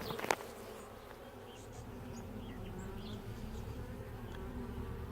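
Honeybees buzz around an older hive during an inspection, a dense, low, continuous hum with individual bees droning past close by, after a brief knock at the start; no one speaks.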